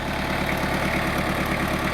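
A farm tractor engine idles steadily on a below-freezing early morning at a pond construction site, a close, continuous low rumble with no talk over it.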